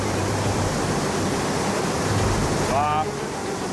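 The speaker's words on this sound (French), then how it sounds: "Très vite, il faut déjà traverser un torrent." A mountain torrent in the Hautes-Alpes rushing past close by, a dense, loud, unbroken roar of water with a brief faint tonal squeak near the end.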